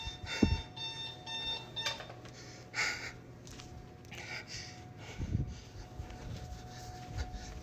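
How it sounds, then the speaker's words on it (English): An alarm going off, a steady electronic tone ringing faintly throughout amid rustling and breathing, with a few soft thumps, fairly quiet overall. "and now the fucking alarm's going off."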